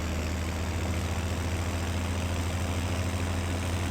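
Tractor engine running steadily in Farming Simulator, a continuous low rumbling drone at an even level with no talk.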